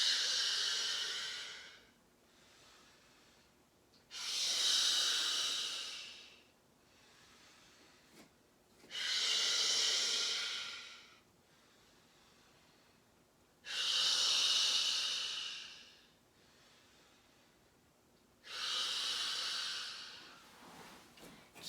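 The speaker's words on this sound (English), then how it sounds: "Keep breathing just like that." Slow, deep breaths during vinyasa yoga practice: five long, airy inhales or exhales rise and fade in a steady rhythm, close and clear, with quiet pauses between them and no talking.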